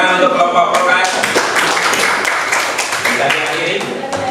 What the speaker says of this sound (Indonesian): kita beri tepuk tangan untuk kelompok kelas